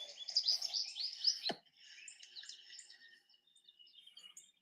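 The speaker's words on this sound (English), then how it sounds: "Can you hear bird sounds?" Birds call faintly outdoors, with a burst of bright chirping trills at first, a sharp click, then thinner scattered tweets as the calls fade.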